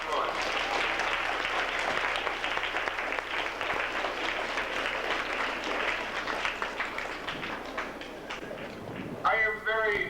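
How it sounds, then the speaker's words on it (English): A large audience gives a sustained round of applause at a morning gathering, dense continuous clapping filling the room for several seconds before fading into a voice near the end. "Let's give those kids who participated in those kids a round of applause."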